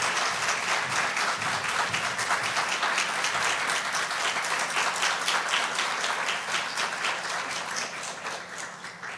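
An audience at a Native tribal and Indigenous ceremony at a university applauds steadily, dense clapping filling the hall for about nine seconds at a constant level, fading slightly toward the end, with no talk over it.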